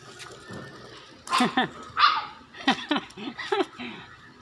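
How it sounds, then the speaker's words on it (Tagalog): A dog barks and yips several times in quick bursts, fairly close, with a few short gaps between the barks. "inabol yung aso niya"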